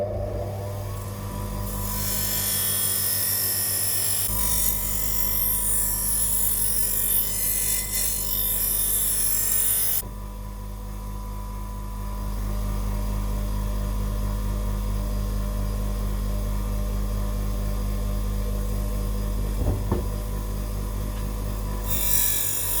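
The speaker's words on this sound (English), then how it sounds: "I'm just going to go to the bench grinder behind me first and just use the polishing side of it to trim off the oxidized material" A bench grinder's polishing wheel trims an oxidized coating off metal with a loud, steady whirring drone that shifts in tone as the metal is pressed and lifted, heard alone without talk.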